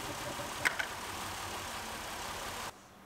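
A Pontiac Grand Am engine idling unevenly nearby, a low steady churn with a couple of sharp knocks early on, cutting off abruptly near the end.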